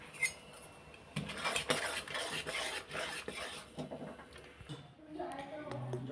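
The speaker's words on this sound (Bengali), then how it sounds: "এটাকে আমি চালের গুঁড়োটাকে ভালো করে মিক্স করে নিলাম" A utensil scrapes and clinks against a metal pot as rice flour is stirred into boiling water for milk pitha, a close, irregular run of rasping strokes and taps.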